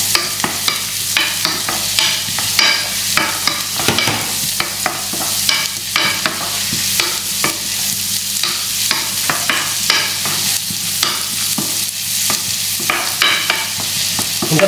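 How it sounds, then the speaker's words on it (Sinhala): Onions fry in butter until brown, a constant close sizzle broken by rhythmic scraping strokes of a spoon stirring across the pan. "ඊට පස්සේ මේක හොඳට මේ ලුණු ටික බටර් එකෙන් ෆ්‍රයි කරගන්න බ්‍රවුන් කලර් වෙනකම්."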